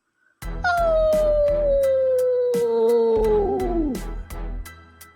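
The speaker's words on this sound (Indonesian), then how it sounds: "3 rekannya yang lain melolong tinggi, persis seperti serigala" Howling like a pack of wolves serves as a sound effect in an audio drama: one long, loud, falling howl with other howls layered beneath it, over repeated thumping beats.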